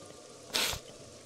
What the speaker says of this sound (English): Excuse me, that sneeze